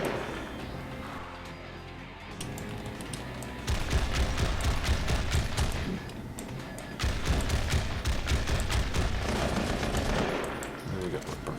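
Gunfire in Marvel Heroes as the Punisher, sustained rapid automatic bursts in two long volleys with a brief lull between, loud and continuous, with a voice talking underneath.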